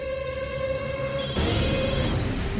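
A telephone rings steadily for a couple of seconds in a domestic scene from a Tamil TV serial, its repeating electronic tone loud and continuous with a brief shift partway through.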